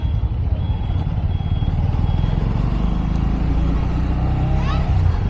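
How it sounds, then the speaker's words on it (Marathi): Large vehicles crawl through a narrow residential lane in Warje, a steady loud rumble of engines and traffic filling the whole stretch, with a faint rising horn or beep toward the end. "एवढ्या गल्लीमध्ये एवढ्या मोठ्या मोठ्या गाड्या टाकतात लोक."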